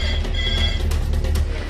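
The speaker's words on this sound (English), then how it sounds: "the emergency red phone is ringing again." The emergency red phone in a busy hospital emergency department rings loudly and steadily, a continuous trilling bell close by with no talk over it.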